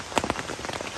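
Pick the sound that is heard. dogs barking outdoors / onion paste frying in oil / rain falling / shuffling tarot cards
rain falling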